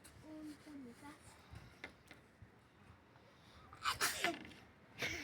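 One sharp sneeze near the end, loud and close, followed by a short burst of noise, with a quiet voice and faint clicks earlier on.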